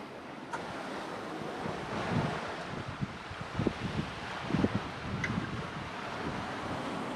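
Wind and waves on a sailboat running under spinnaker across the South Atlantic, a steady broadband wash of wind and sea with a few louder surges of water around the middle, no talk.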